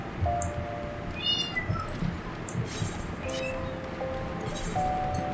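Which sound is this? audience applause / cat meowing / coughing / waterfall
cat meowing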